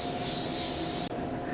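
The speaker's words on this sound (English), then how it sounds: "we're going to take our baking spray and we're going to spray all around the" A continuous hiss of baking spray coating the sides and bottom of cake pans runs steadily for about a second, then stops abruptly, leaving quieter room noise.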